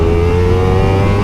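A motorcycle engine holds a loud, steady droning hum with a firm low tone, close up and unbroken through a brief burst of revving.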